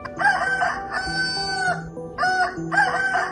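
A rooster crows several times in a row as a bird character in a children's Tamil story, each call loud, close and harmonic, with short gaps between calls and no talking.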